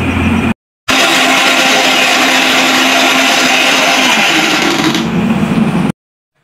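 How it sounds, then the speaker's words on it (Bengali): A mixer grinder whirs loudly and steadily as it grinds a spice paste with yogurt for a chicken marinade, running close up for about five seconds after a brief pause, then cutting off abruptly. "দই দিয়ে তারপর এটাকে আবার মিক্সচার মেশিনে পেস্ট করব"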